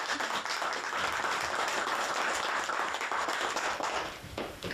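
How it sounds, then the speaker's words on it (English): An audience at a city council meeting in Estevan gives volunteers a sustained round of applause, dense steady clapping filling the room throughout before tapering slightly near the end. "Again, let's give everyone a round of applause."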